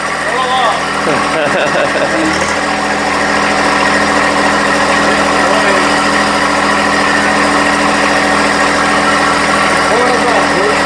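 A tractor engine straining as it pulls a generator welder, a loud steady mechanical drone with rattling vibration throughout and brief sharp knocks early on.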